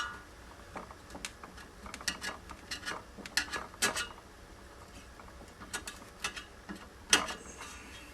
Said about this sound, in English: I'm just about done scraping the basket